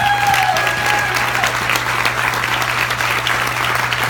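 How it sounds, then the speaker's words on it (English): An audience at an event gives a full round of applause, loud continuous clapping from a crowd with a steady low hum beneath and a brief tonal whistle near the start. "I want you to give Susan a round of applause."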